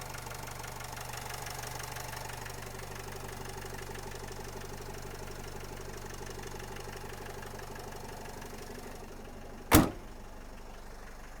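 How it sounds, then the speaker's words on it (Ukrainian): A 2014 Opel Vivaro van's 2.0-litre diesel engine idles steadily and evenly close by, with a sharp knock or door thud near the end. "Рівненька робота мотора."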